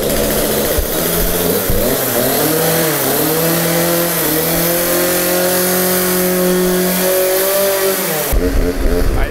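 Garden machine engine revving, a loud close motor whose pitch rises and falls through repeated throttle swells before dropping away near the end, with a voice talking briefly over it.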